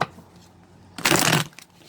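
A deck of tarot cards is cut with one quick riffling snap lasting about half a second, close and crisp, after a quiet pause.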